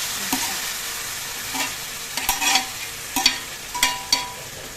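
Soybean chunks with fried ridge gourd and potatoes are stirred in an oiled pan, giving a soft sizzle broken by several sharp scraping clatters of the spoon against the pan.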